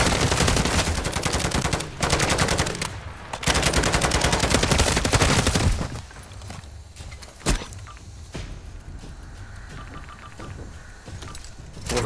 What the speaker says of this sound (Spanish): Torreta centinela desplegada.